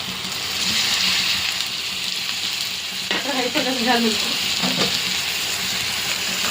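Onions and tomatoes fry in a pan with a steady broadband sizzle, while a spoon stirs them in a cluster of scraping, clinking strokes near the middle, close and fairly loud with no talking.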